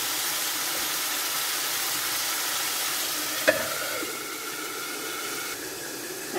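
Chayote and meat sizzle and fry steadily in a pan, a continuous hissing sizzle with a brief clink partway through, then a slightly quieter, steady frying hiss with no talking.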